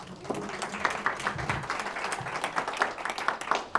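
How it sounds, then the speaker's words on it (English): Audience applause fills a seminar room at a real estate coaching session, a dense, steady wash of many hands clapping at moderate distance throughout, with no one speaking over it. "Give this guy a round of applause"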